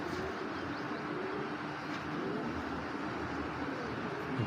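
Racer pigeons coo in a low, continuous, throaty murmur close by, set against a faint steady background hum with no talking.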